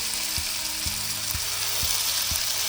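Paneer cubes browning in a small amount of oil for paneer tikka masala, giving a dense, even sizzle close by, punctuated by five regular soft scrapes of a spatula, with no one speaking.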